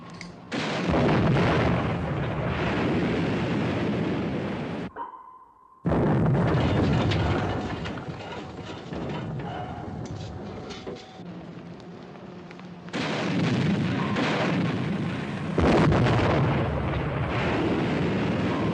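Heavy weapon fire and deep booming explosions roll through a WWII naval battle scene in a 1957 film, loud sustained blasts broken by a short silent gap, then more rumbling bursts.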